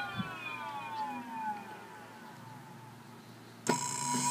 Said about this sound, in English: now when you turn the throttle, an abrupt start, but the wheel turns